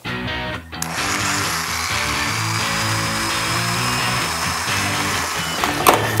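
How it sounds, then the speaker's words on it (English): A power drill whirs loudly and steadily as it bores holes through fiberglass on a Mazda RX7 whale tail spoiler, its motor droning without a break for several seconds. "Now it's time to drill the holes for the screws to hold down the 2 front corners."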